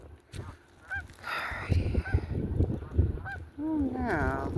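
Two Canada geese honk from the shallows, giving several nasal calls, with one long wavering honk near the end, heard at moderate distance over outdoor background noise.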